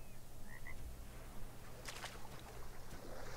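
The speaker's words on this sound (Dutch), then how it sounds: "Ik hoorde een kikker, jongens" A frog croaks in a swamp in the video game Ark Survival, a few short faint calls over a steady ambient bed with a brief rush of noise midway, no talking.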